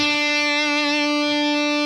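Distorted electric guitar holding a final sustained note in a rock riff, wavering in pitch with whammy-bar vibrato, loud and alone for nearly two seconds.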